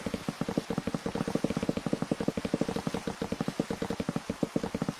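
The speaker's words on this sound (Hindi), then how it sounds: "अबे यार, इस बारिश का अभी होना था।" Rain in Minecraft, heard as a steady, dense patter of raindrops that runs without a break, close and fairly loud with a rhythmic pulsing texture.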